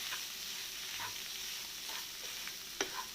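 Clam meat and masala are stirred in a frying pan over a steady low sizzle, with a few soft scraping strokes of a spoon and one sharper clink near the end, close and quiet.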